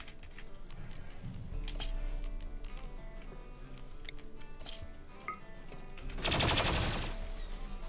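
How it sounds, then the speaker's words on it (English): Gunfire in the Rimworld video game as colonists attack a Featherless Clutch Mother creature, heard as quick, faint rapid shots and ticks over a low game-music bed, with a denser burst near the end. "Okay, Purple, you got a gun? Yeah. Attack the Featherless Clutch Mother."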